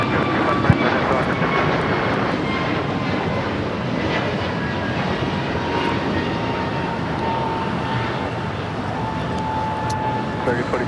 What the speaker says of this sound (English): Philippine Airlines Flight 112 coming in from Seoul. The reason for that is it's on an A330